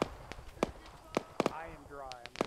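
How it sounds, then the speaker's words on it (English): Gunfire during a military operation in a video game, with sharp irregular shots cracking at close range over a couple of seconds while a voice talks over them. "Taking fire! Enemy fire!"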